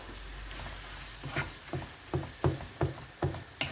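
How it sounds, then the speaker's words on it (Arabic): Chopped onion and three large garlic cloves frying with kofta in a home kitchen: a steady hiss of oil under a series of soft stirring knocks and scrapes that grow more regular toward the end, with no talk. "دابا ان شاء الله غادي نشحروهم مع الكفته."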